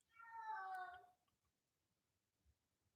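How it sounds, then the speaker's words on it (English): A pet cat named Eddie gives one loud, drawn-out meow with clear rising and falling tones, close to the microphone, followed by near silence. "Is that my cat?"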